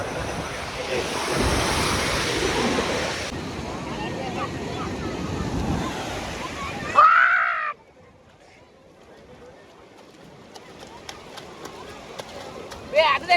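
Ocean surf roars and surges steadily, then cuts to a quieter stretch with wind and distant waves. Crows call nearby, and someone speaks.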